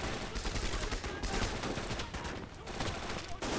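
Dense, sustained gunfire from the Gates of Hell war game, Gebirgsjäger against Soviet defenses: overlapping rifle and machine-gun bursts and a fusillade of shots, loud and continuous for the whole stretch, with a voice faintly mixed in.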